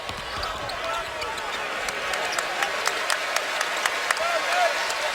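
Arena crowd applauding and cheering at a Louisville versus North Carolina college basketball game, a steady roar with sharp ball bounces or sneaker thuds cutting through, commentator voices underneath.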